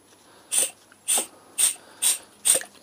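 A Mityvac vacuum pump worked by hand on a motorcycle brake master cylinder, with five evenly spaced hissing, ratcheting pump strokes, close and clear.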